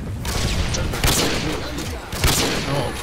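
Gunfire in Call of Duty: Modern Warfare 2 played on iw4x during trickshotting, with several loud, close bursts of shots and booms spread across the moment, over a dense background of game noise.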